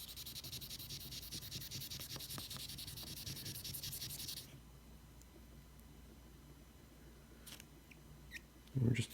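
A stubby knife rubbed back and forth on fine-grit sandpaper during polishing gives a steady, close scratchy hiss for about four seconds, then quiet with a few faint scrapes and a brief louder bump at the end.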